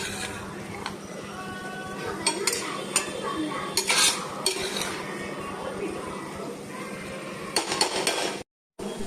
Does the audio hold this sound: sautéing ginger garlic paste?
yes